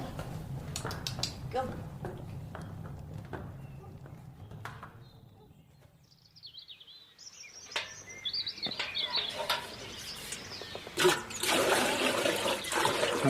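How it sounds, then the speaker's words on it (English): Milk pours down a drain on a country farm, a rushing, splashing burst of liquid near the end, mixed with animal hoof sounds, birds and voices. "That's good milk you're pouring down that drain."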